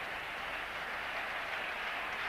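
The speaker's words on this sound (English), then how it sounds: "a clapping breaks out around the stadium to see if they can clap him to 50" Stadium crowd at an India vs Pakistan cricket match claps steadily for a batsman nearing his fifty, a dense, continuous wash of distant applause with no voices standing out.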